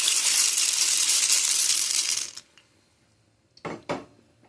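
Dry penne pasta poured into a simmering hot Italian sausage sauce, a steady hissing rush of pieces spilling for about two seconds, then quiet and two short clattering knocks of a pot or utensil.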